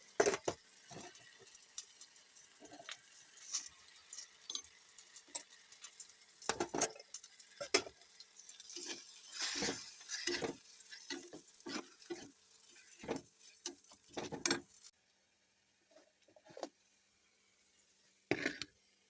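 Tomatoes and onions sautéing in oil with salt and turmeric in a pan, stirred with a spoon in repeated scraping strokes over a soft sizzle, with short pauses and a quieter stretch near the end.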